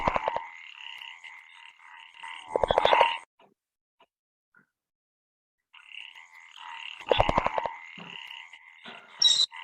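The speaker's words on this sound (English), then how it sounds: "Yes, it is common tree frog." Common tree frog calling in the Sundarbans in two croaking, rattling bursts separated by a few seconds of silence, each burst rising out of a steady trilling chorus, fairly close and clear, with no talk over it.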